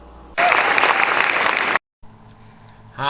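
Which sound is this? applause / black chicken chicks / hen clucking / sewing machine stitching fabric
applause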